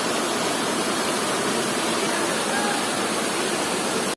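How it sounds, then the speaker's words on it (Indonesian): Loud, constant roar of the Ramuan waterfall at Batu Sejajar, dense rushing water noise with no breaks, close by. "Kita lagi di air terjun Ramuan, tepatnya di Batu Sejajar"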